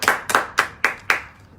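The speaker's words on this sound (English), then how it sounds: "Clap for him." A small group claps for a donor during a live political campaign broadcast, five sharp separate bursts of clapping in a steady rhythm, close and fairly loud, with no voices over them.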